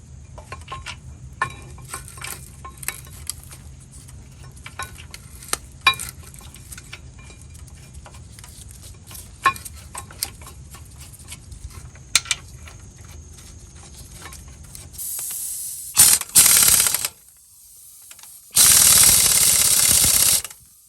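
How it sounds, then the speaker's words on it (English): Removal of 14 mm rear brake caliper bracket bolts on a 2000–2005 Ford Super Duty truck: sparse clicks and ticks of tool handling, then two loud bursts of an air or power tool whirring near the end. "14 millimeter, just drill them off."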